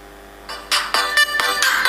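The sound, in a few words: original phone sound played from a mobile phone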